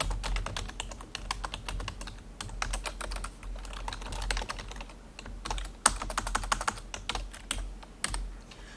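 Rapid computer-keyboard typing while entering C++ code, dense irregular key clicks close to the mic with a low steady hum beneath, no talk.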